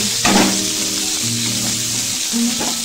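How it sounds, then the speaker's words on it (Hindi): Sliced onion and green chilies fry in hot oil for a masala dosa filling, giving a steady close sizzle with faint stirring scrapes and no talk. "प्याज को हल्का ब्राउन होने तक भूनेंगे।"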